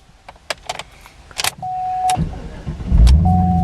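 A 2011 Cadillac CTS-V, a repairable salvage car, is restarted: a few key clicks and a steady warning chime come first, then the engine cranks and catches, settling into a loud, close, rumbling idle.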